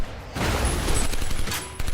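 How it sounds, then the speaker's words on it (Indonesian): Rifle gunfire from a neighbour's gun rings out in Werewolf (2024), a dense, loud burst that fills nearly two seconds with no voices, starting abruptly after a quieter opening. "Tiba-tiba ada peluru nyasar."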